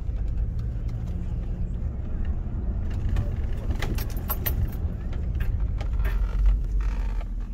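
A car rolls slowly through a parking area near a reptile show while hunting for a space, giving a steady road and engine rumble inside the cabin with light rattling and jingling.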